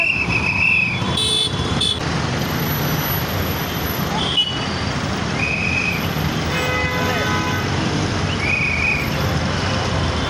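Road traffic in a jam, steady engine rumble and vehicles moving past nearby, with occasional horn-like tones and brief whistle blasts over continuous noise; faint voices in the background.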